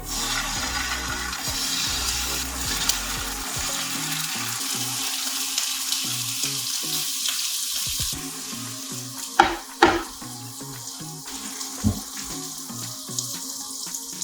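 Tofu sizzles and fries steadily in a pan of perilla oil mixed with sunflower oil, a dense continuous crackle with a few sharper louder pops near the end, no talking.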